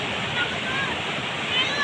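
Strong ocean waves wash against the shore beside seaside houses, a loud, steady roar of surf and wind with no breaks, and someone talks over it.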